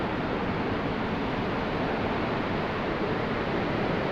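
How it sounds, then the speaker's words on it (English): Ocean waves passing below the deck of a cruise ship at sea, a steady broad rushing wash with wind, loud and continuous throughout with no talk. "watch the ocean"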